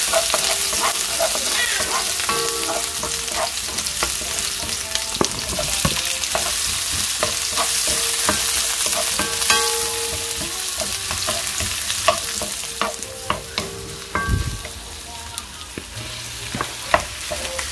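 Garlic frying and sizzling in a pan for Filipino pancit bihon, a steady loud crackle with the clatter of stirring throughout.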